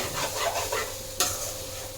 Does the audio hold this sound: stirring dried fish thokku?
yes